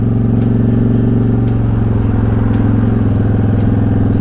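A Honda Shadow motorcycle engine running at higher RPM while riding to warm up. It makes a loud, steady, close droning rumble that holds an even pitch throughout.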